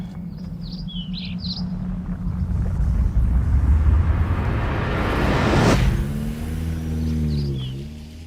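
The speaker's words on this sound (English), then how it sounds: "Just hit the gas and keep going left" A car rumbles as it accelerates and drives off, its engine building over several seconds into a loud whoosh, then a rising engine whine as it pulls away, with birds chirping faintly at the start.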